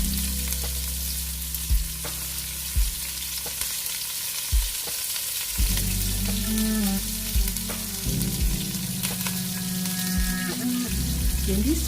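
Chopped onion sizzles in a hot pan for tomato sauce, a steady close crackle broken by periodic knocks and scrapes as it is stirred, with no voice over it.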